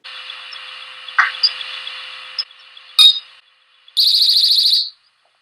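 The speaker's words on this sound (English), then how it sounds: "You hear a popping sound, and then just after that, the beep of the motion sensor being triggered" During a paranormal investigation, two sharp pops ring out a couple of seconds apart, then a motion sensor's loud, rapidly pulsing electronic beep sounds for about a second.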